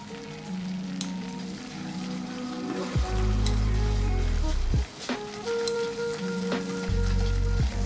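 Butter and flour sizzle steadily in a pan over medium-low heat as they toast, a close, even crackle with a few soft scrapes and stirring bumps, no voices.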